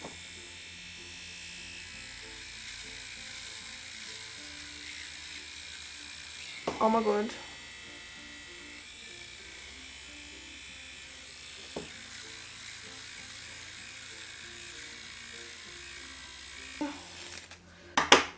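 A pocket electric face razor buzzes steadily throughout, with a couple of brief louder bursts as it is twisted on or moved against the skin; someone speaks briefly.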